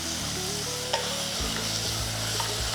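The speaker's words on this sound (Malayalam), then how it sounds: "ഇനി നമുക്ക് ഈ പച്ചമുളക്, വെളുത്തുള്ളി, ചുവന്നുള്ളി ആ ഒരു മിക്സ്ചർ വഴറ്റിയെടുക്കാനുണ്ട്." Green chili, garlic and shallot mixture being sautéed for mutton biryani, a steady sizzle with a spoon stirring and scraping through the pan, heard up close without speech.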